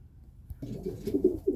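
Soft, low pigeon cooing in a loft, a few short throaty coos in quick succession, fairly close and quiet, with no talking.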